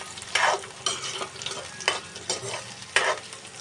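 Onions sizzle in hot oil in a pan as a spoon stirs them, with loud frying hiss and bursts of scraping that repeat about once a second.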